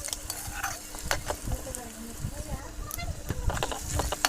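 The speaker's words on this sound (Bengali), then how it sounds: "পেঁয়াজ কুচি দিয়ে দিলাম, কাঁচামরিচ দিলাম, নাড়াচাড়া দিব।" Chopped onion and green chillies fry in hot oil in a wok for quick noodles, stirred with a spatula: dense crackling sizzle with frequent close scrapes and taps against the metal.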